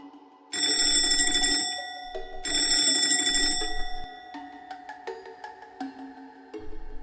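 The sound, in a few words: alarm clock ringing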